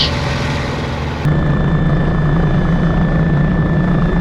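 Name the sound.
helicopter flying at airshow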